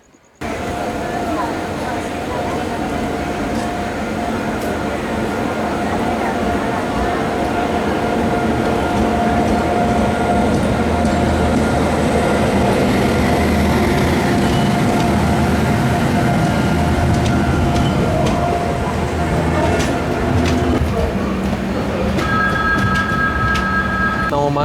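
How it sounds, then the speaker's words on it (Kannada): The Ernakulam to Mumbai LTT Duronto Express rumbles past on the Konkan Railway during the monsoon, a loud sustained roar with rattling wheels heard from aboard another train, with a faint horn near the end. "ಎರ್ನಾಕುಲಮಿಂದ ಮುಂಬೈ LTTಗೆ ಹೋಗುವಂಥ ದುರಂತ ಎಕ್ಸ್ಪ್ರೆಸ್ ಎಂಟ್ರ್ ಆಯ್ತು ನೋಡ್ರಿ"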